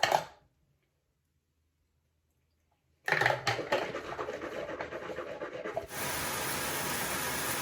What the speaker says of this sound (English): next is my tongue scraper and then my TheraBreath